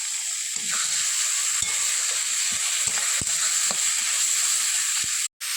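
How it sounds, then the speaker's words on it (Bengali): Ginger and garlic spice paste fries in a pan for chicken kosha, giving a loud, continuous close sizzle with scattered light clicks of stirring and a short drop-out near the end. "মশলাটা ভালো করে ভাজা হয়ে গেছে"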